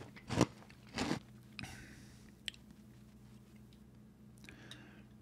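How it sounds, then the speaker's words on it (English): Cinnamon Toast Crunch cereal eaten with orange juice, heard as two loud, close crunchy bites followed by quieter chewing, small crackles and faint wet squishes. "This guy said he ate his cereal with orange juice as if it was a normal everyday thing"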